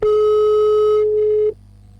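A single steady telephone line tone sounds loud and close for about a second and a half, then cuts off, leaving only faint low hum on the line.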